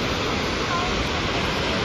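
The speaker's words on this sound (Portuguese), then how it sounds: "Aqui é a parte de cima da cachoeira." Dense, constant roaring rush of water from the top of the São Francisco falls, a large waterfall in southern Brazil, loud and unbroken throughout.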